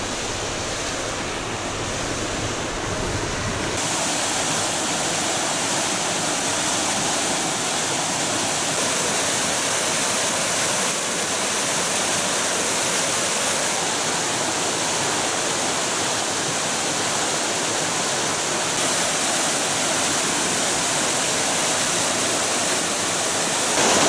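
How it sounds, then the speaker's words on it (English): Bleabeck Force, a waterfall beside a river in Teesdale in the North Pennines, roars as a loud, steady, dense rush of falling water throughout. "I soon spotted another waterfall, which was worth the short detour to visit."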